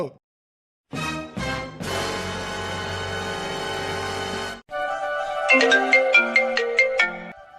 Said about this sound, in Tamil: யாரு மித்ரன் சார் தான் ஃபோன் பண்ணிருக்காரு